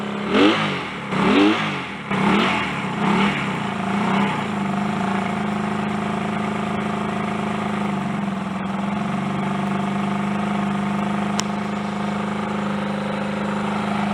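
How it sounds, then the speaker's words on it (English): A Honda CD175 twin motorcycle engine running close by, with a few quick revs at the start that settle into a steady, even idle, no voices. "But we've got a Honda 175 twin running."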